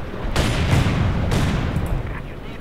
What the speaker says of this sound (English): Okay, let's put some artillery.